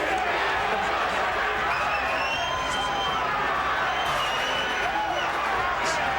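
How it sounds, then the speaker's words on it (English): Boxing arena crowd chanting Butterbean's name, a dense, loud roar of many voices sustained throughout, with rhythmic chant tones over the din and a commentator talking over it. "Crowd chanting his name."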